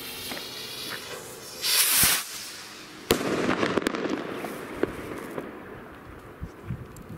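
A purple-red firework rocket launches with a loud whooshing hiss, followed by a sharp bang and a scatter of crackling pops that fade into quieter outdoor background.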